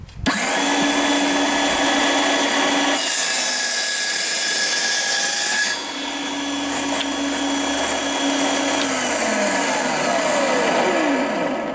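A mini portable table saw whines loudly and steadily as it cuts plywood. The pitch shifts as the blade bites into the sheet, then winds down near the end, with no voices.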